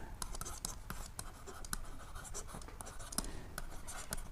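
Chalk or marker strokes on a classroom board during a secondary-school math lesson, sounding as quick, sharp taps and short scratches in an irregular rhythm, close and fairly faint, with no talk over them.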